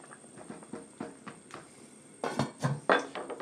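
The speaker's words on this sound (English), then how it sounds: "All right, this has come to the boil. Give it a stir." Soup brought to the boil, stirred in a pot: a spoon knocks and scrapes against the pot in a quick series of taps, then a few louder clanks toward the end, close and clear with no talking.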